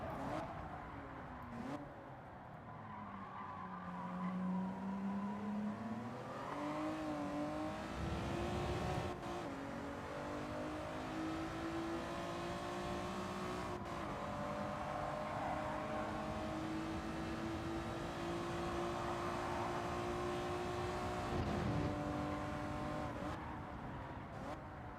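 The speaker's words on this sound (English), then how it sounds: "coming up to the famous hairpin at Suzuka in the Honda NSX" A Honda NSX races through the Suzuka hairpin in Gran Turismo 7, its engine note rising and falling through downshifts and acceleration, faint and continuous throughout.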